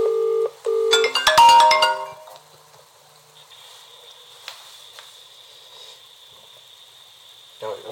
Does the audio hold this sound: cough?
no